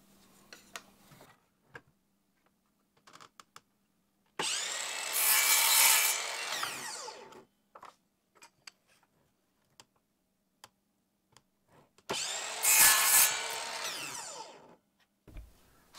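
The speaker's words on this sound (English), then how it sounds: "I'm going to use the bandsaw to just cut these pieces out" Small bandsaw cutting small pieces from a wooden paint stick: two loud, sustained rasping cuts, each a couple of seconds long, with quiet clicks and handling noises between and around them.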